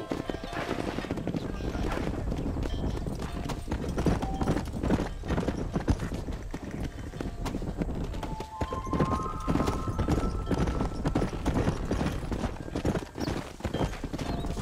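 Horse hooves clip-clopping at a steady pace in the Western video game Red Dead Redemption, a continuous rhythm under game ambience with occasional spoken voices.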